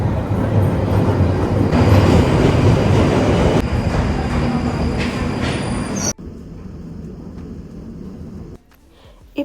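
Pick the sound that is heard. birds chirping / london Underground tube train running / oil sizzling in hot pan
london Underground tube train running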